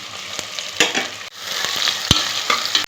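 Small shallots frying in hot oil in a pan for Madurai country chicken curry, a steady close sizzle with sharp scraping stir strokes at irregular intervals, no voices.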